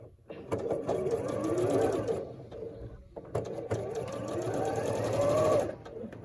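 A sewing machine stitches a quilt block seam in two loud, steady whirring runs, broken by a short pause where the motor stops, with faint talk in the background.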